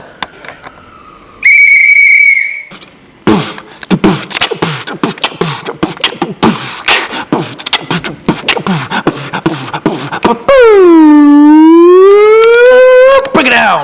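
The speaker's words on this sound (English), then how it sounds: "Parkinson, you will go on my first whistle." A sharp, loud whistle blast signals the start of a contest, followed by a burst of rapid thumps and scuffles and then a long wailing siren-like tone that swoops up and down.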